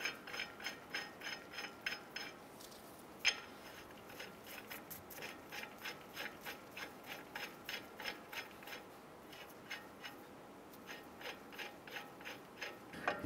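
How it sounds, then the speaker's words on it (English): Metallic ratcheting clicks in a steady repeating rhythm as wheel nuts are threaded onto the front axle of a 2011-2018 Ram 1500, faint and close, with no talking. "we're going to go ahead and thread on a couple of our wheel nuts"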